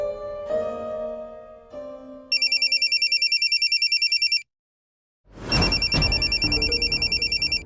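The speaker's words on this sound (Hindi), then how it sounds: "ये चंदू का फोन मेरे मोबाइल पे क्यों आ रहा है?" A mobile phone rings with an incoming call, a bright electronic ringtone pulsing in rapid repeated bursts. It breaks off briefly, then resumes after a soft musical passage.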